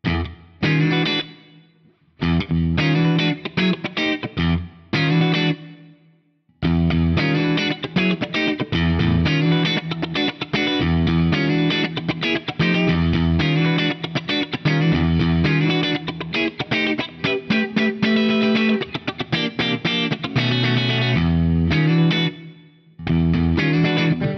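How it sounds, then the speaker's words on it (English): Distorted, compressed electric guitar played through a bass amp model, with a thick low-end tone, strummed chords and riffs played continuously with a few brief pauses. "So let's turn that gain up, and then I will kick in a compressor."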